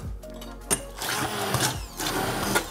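An electric blender purees cooked leek and potato soup in a home kitchen, a steady whirring motor drone that surges and dips slightly as the blade churns the thick mixture, close and fairly loud.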